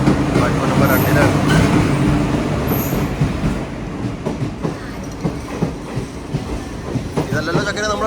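A train at a railway station platform in Kerala, a loud rolling rumble with clattering wheels and a faint squeal, easing toward quieter rhythmic clicks, with voices on the platform.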